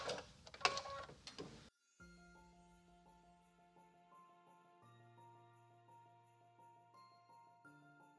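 A sewing machine runs a satin stitch on a quilt block, a faint, steady mechanical hum with tinkly tones after a brief burst of rustling handling noise at the start.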